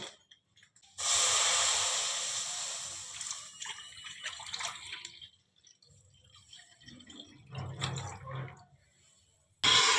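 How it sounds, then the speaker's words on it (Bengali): A liter of milk pours into a wok in a close, gurgling splash lasting several seconds and tapering off, followed by quieter clinks and a second brief burst of liquid sound, no voices. "আমি এবারে দুধটাকে কড়াতে ঢেলে দেবো"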